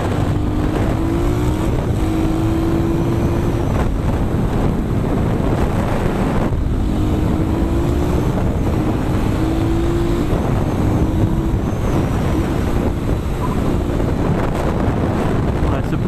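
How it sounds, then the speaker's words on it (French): An Aprilia Shiver 900 motorcycle engine pulls from low revs, a steady droning exhaust note with rising tones under wind buffeting, heard from the rider's position. "cette moto reprend dès 2500 tours minute"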